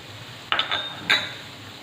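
Carrot and cabbage for cutlets being mixed in a pan, with two short bursts of metal spoon scraping and clinking against the pan over a quiet background.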